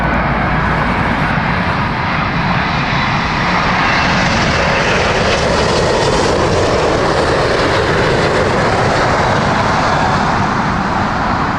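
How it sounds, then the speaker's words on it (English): A British Airways Boeing 777 bound for Chicago at Heathrow in crosswinds roars loudly and continuously, the engine noise swelling slightly as it passes, with no talking. "Here is the 777 up British Airways."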